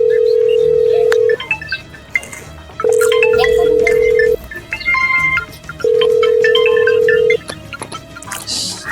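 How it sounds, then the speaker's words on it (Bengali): A telephone rings out repeatedly with no answer in a Bengali domestic drama, three long steady ring bursts separated by pauses, with faint background activity between them. "ফোনটা তো রিং আছে, ফোনটা তো ধরে না।"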